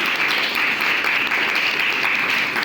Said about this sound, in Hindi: जोरदार तालियों से स्वागत करेंगे उनका